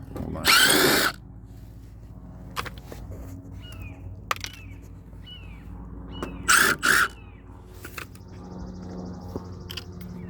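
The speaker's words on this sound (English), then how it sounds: "you need a drill or hand tool with a square bit on the end" A power drill with a square bit whirs in a short loud burst, then a couple of brief bursts later, while replacing RV taillights, with bird calls scattered in the quiet background.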